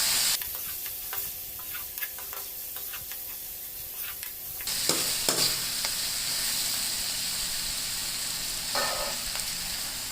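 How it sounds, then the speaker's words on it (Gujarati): Vegetables and spices for vegetable poha are stirred in a hot pan, a close sizzle with quick clinking scrapes of the spoon, growing louder and hissier partway through, with no voices. "હવે આ બધી શાકભાજી અને મસાલાઓને સારી રીતે મિક્સ કરી લઈશું."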